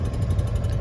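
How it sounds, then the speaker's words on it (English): A farm tractor engine runs continuously while moving animals, a steady low mid-pitched idle rumble with faint vibration, fairly loud and unbroken, no voices. "She's moving them with the tractor."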